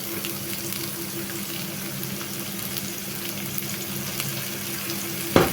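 Chopped onions sautéing with salt in a pan for prawn gravy, giving a steady, soft sizzle throughout with a faint clatter near the end.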